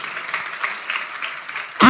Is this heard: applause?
yes